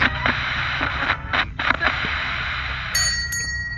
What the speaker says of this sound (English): The bell above the door jingled again.